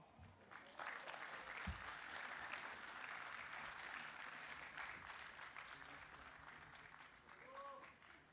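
Sustained audience applause at a conference keynote, a dense, steady wash of many hands clapping at moderate volume, with faint voices briefly audible near the end.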